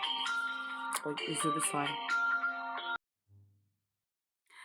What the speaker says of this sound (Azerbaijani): Mən bütün telefonları səssizləşdirmişəm, amma evdə əlavə telefondan səs gəldi.